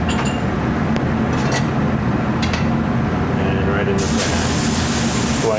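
Pork rib eye sears in a smoking-hot pan of vegetable oil, a steady loud sizzle and crackle running throughout with a few clinks and brief talk over it.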